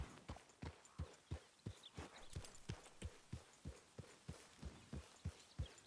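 Horse hooves clip-clopping steadily in the Red Dead Redemption II video game, two saddled horses walking with an even, regular rhythm of distinct hoof strikes at a moderate distance, no voices over them.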